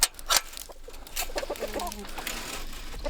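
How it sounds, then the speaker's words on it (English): Escaped chickens cluck in short bursts close by, with a few louder squawks and some rustling around them. "The chickens have gotten out."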